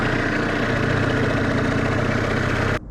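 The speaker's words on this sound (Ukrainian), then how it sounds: "Залишається завести мотор і їдемо" A boat motor idles steadily at a quarry, loud and close, with a constant low rumble and rhythmic throb that cuts off abruptly at the end.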